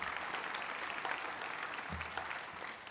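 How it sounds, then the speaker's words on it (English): Audience applause at an awards ceremony for a soccer club's season medals, a steady patter of clapping from a crowd that is fairly quiet and fades slightly toward the end. "Big round of applause."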